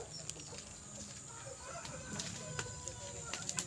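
Gamecock roosters crow faintly in the distance amid soft clucking and scattered backyard noise, fairly quiet overall.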